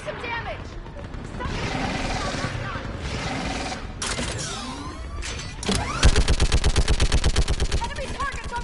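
Rapid mounted-gun fire in Mass Effect 3 combat, loud bursts and booms mixed with battle noise and shouted voices, ending in a sustained, evenly pulsing stream of automatic shots.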